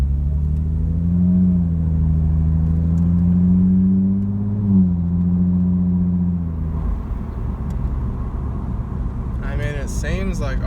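A car engine with a fault hums and rises in pitch as the driver accelerates on the road, a continuous near drone that steadies and swells, with a brief voice near the end.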